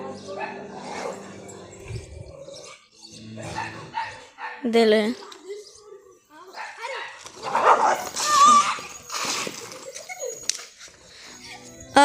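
Dogs in a training session, one chasing a person, bark, yip and whimper in loud close bursts while several people talk and call out over them.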